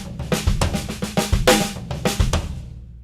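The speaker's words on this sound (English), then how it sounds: "he does a paradiddle followed by a bass drum." A drum fill on a kit: a quick paradiddle pattern of snare and tom strokes mixed with deep bass drum thumps, close and punchy, ending with a decaying final hit and no talk.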